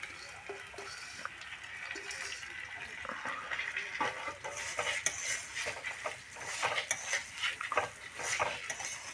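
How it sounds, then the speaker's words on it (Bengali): Dry rice being fried in a pot for pulao, with a utensil scraping and stirring against the metal in irregular clatters over a faint sizzle, fairly close and without talk. "চালটা একটু সুন্দর করে ভাজিয়ে নেবো।"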